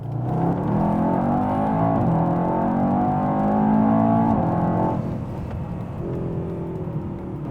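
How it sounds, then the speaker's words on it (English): A 2018 Mercedes E63 AMG S with its 4-liter twin-turbo M177 V8 accelerates hard, its loud, rising engine note climbing steadily for about five seconds before easing into a lower, steady drone. "this here is my personal 2018 Mercedes E63 AMG S"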